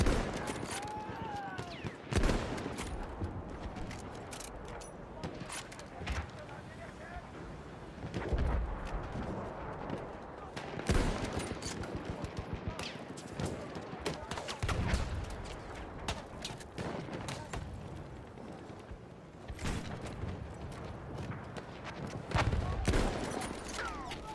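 Battlefield 1 battle scene with repeated bursts of machine gun fire mixed into a dense wash of gunshots and explosions, rumbling continuously at moderate loudness with faint voices beneath.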